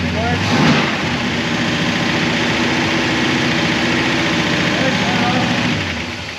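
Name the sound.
1966 Oldsmobile 442 engine idling with Edelbrock carburetor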